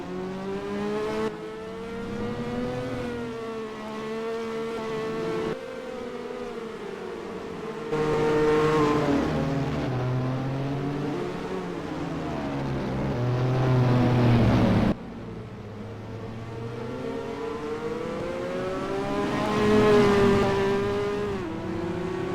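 Formula 1 race cars in the NASCAR Racing 2003 video game, engine whines rising and falling through gear changes, with abrupt cuts between camera views and cars passing at varying distances.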